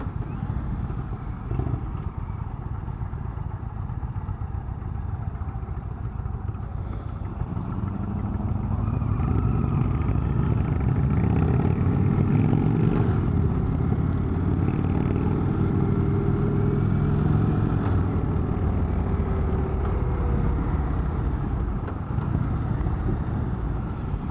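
An Indian Chieftain motorcycle engine drones steadily while riding, rising slightly in the middle, with wind rush and road noise throughout.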